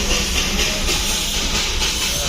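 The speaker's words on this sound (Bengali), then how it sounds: "ঘুম স্টেশন পেরিয়েই আমরা রাস্তার মধ্যে দেখা পেয়ে গেলাম টয় ট্রেনের।" Darjeeling toy train passing close on the road just past Ghum station, a loud hissing rush with rumbling wheels and faint clatter, continuous throughout.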